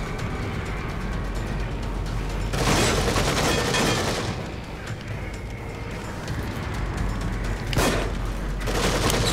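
Heavy gunfire in the horror game The Evil Within, dense bursts of shots and booms over a constant rumbling game backdrop, with louder volleys partway through and near the end.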